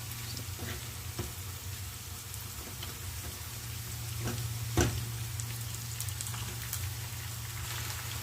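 Beef pieces sizzle in hot oil during cooking of a Bangladeshi-style beef kosha (bhuna), a steady close crackle with brief louder pops as more meat is added, no talking over it.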